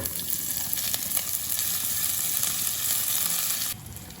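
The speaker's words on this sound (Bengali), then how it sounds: "আদাটা ভেজে নিয়েছি" Grated ginger frying in hot oil with panch phoron spices, giving a steady, close crackling sizzle that holds for several seconds and then drops slightly quieter near the end.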